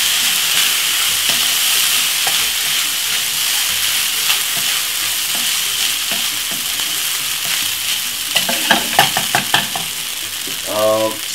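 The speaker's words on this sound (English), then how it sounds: "Give it a stir." Fried rice with a splash of soy sauce sizzles steadily in a hot pan while being stirred, with a run of sharper scraping and clattering strokes near the end and no talking.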